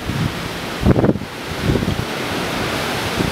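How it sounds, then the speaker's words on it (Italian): Rough Atlantic surf breaks on the beach at Nazaré, Portugal, a constant roaring wash with heavier thumps of crashing waves, mixed with strong wind buffeting the microphone outdoors. "il mare è mossissimo cioè qua è, vabbè, è proprio oceano"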